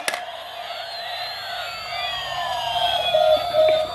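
An ambulance siren wails from a children's cartoon toy-car scene, rising and sweeping in repeated tones, loud and close, with no talk over it.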